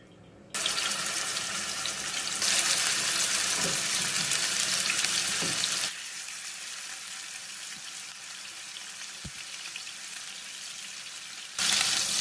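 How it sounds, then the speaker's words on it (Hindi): Kebabs frying in hot oil, a dense, continuous sizzle that jumps up as pieces go in, then settles into a quieter steady hiss before surging again near the end. "ऑयल बिल्कुल गरम हो चुका है, इसमें हम कबाब बारी बारी रख के फ्राई करते हैं।"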